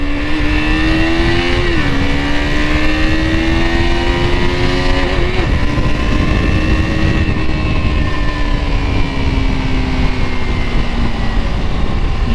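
A KTM RC 200 motorcycle engine runs and revs on the road, a loud continuous buzzing drone whose pitch rises and falls with throttle changes over several seconds.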